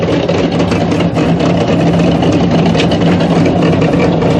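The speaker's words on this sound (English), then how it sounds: "They're both running big aluminum Chrysler engines." Loud, rumbling engines of two 1975 drag racing funny cars with big aluminum Chrysler engines idle roughly and steadily up close, a deep throbbing drone with no pauses.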